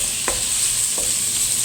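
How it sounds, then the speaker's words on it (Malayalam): Crushed ginger and garlic stirred into a frying Kerala-style chicken curry base, with a steady close sizzle and a couple of brief scraping strokes of the spoon, no voices. "ഇഞ്ചി ചതച്ചത്, വെളുത്തുള്ളി ചതച്ചത് നമുക്ക് ചേർത്ത് കൊടുക്കാം. ഇതെല്ലാം നമ്മൾ ചേർത്ത് നന്നായി മിക്സ് ചെയ്തെടുക്കാം."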